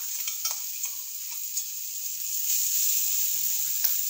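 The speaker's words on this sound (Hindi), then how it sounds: "अब इन्हें अच्छे से भून लेंगे।" Potatoes fry and get stirred in a pan with ginger, garlic and chili paste, giving a constant close sizzle with occasional light scraping clicks from the spoon.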